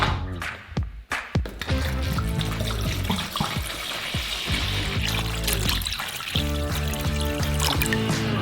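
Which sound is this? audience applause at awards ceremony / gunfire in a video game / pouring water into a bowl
pouring water into a bowl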